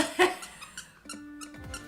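A squeaky dog toy is squeezed, giving a faint, short tonal squeak and a second rising squeal near the end, with soft rustling and handling noise around them.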